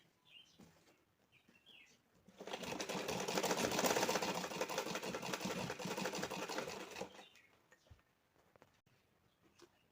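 A sewing machine runs steadily for about five seconds while stitching blouse piping, the whirr rising out of quiet, faint surroundings and then fading back to near silence.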